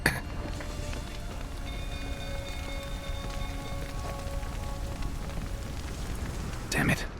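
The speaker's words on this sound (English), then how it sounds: "Looks like rain." Steady rain patters across a surface in The Witcher 3, a constant hiss with a faint tonal hum underneath and a brief clatter near the end.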